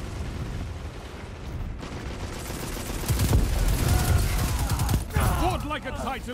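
A Drang sidearm fires in a video game shootout: rapid clustered shots crackle amid a dense, noisy firefight, growing louder and busier midway with booming impacts.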